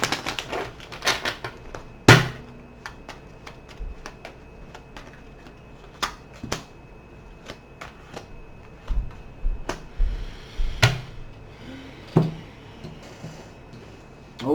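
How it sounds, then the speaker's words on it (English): Crisp, irregular clicks and flutters of playing cards being shuffled and handled, close by, with short bursts and pauses between them. "One more shuffle, guys."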